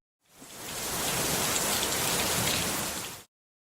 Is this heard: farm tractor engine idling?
no